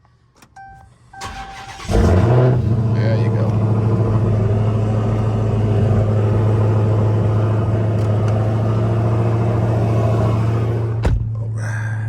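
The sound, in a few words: vehicle engine starting up and running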